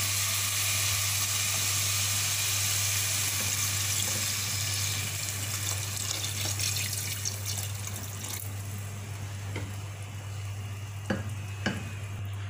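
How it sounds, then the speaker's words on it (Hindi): Water poured into a pan of frying mutton masala, a steady loud sizzle and bubbling hiss that slowly settles, with a low constant hum underneath and a couple of sharp clinks near the end. "अब मैं इसमें शामिल करूँगी पानी हस्बे ज़रूरत"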